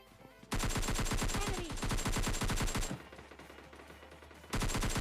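AKM assault rifle fire from PUBG Mobile Lite rattles out in loud, rapid sustained bursts, a long stream of close shots, a brief lull, then another burst, with no voices.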